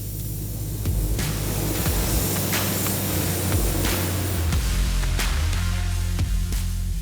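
A spray gun paints the inside of car doors black in an auto body shop, giving a steady close hiss of air and paint that runs without a break over a low background hum.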